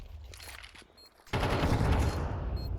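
An AK rifle in Counter-Strike on the Anubis map opens up in sustained rapid automatic bursts, loud and dense after a quieter stretch of faint in-game sounds, with no talking over it.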